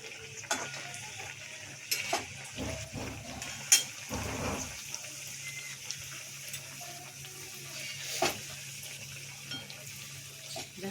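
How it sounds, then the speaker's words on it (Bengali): Pea-filled kachori deep-fry in oil in a wok, a faint, steady sizzle with occasional clinks and knocks of a utensil against the pan, fairly distant and quiet. "কচুরিগুলো ভেজে নেব"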